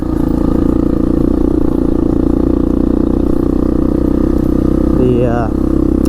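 Steady, loud drone of a 1998 Yamaha Big Bear 350 4x4 air-cooled ATV engine while driving, holding an even pitch throughout, with a brief rising whine near the end.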